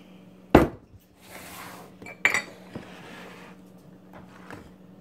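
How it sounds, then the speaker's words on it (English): A utensil stirs chocolate chip muffin batter in a bowl, giving a few sharp clinks and scrapes against the bowl, with soft scraping between them, faint and close in a quiet kitchen. "Then you just stir it all together."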